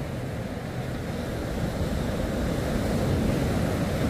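Steady wind blowing up a boat channel in the early morning, a continuous broadband rush with faint surf-like wash, fairly loud and swelling slightly toward the end.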